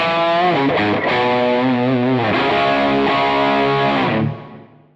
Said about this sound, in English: Now let's switch over to the Plexi style channel and I'll grab my Les Paul.